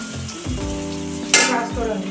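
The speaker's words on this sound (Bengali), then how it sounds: "আমি এই পেঁয়াজটা একটু লাল লাল করে ভেজে নেবো" Onions frying in mustard oil with panch phoron give a steady close sizzle, with a few scrapes of stirring and one sharp burst of hiss partway through.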